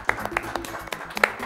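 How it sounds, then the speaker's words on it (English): A small group claps for a school spelling champion: a handful of sharp, uneven hand claps spaced through a short burst, fairly close and modest in volume. "Another round of applause."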